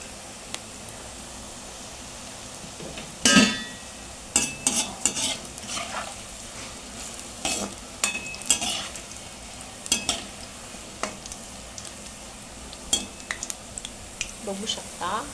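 Onion bhaji batter frying in hot oil for crispy kanda bhaji, a steady soft sizzle under repeated sharp clinks and scrapes of a spoon against the pan as the batter is spread and stirred.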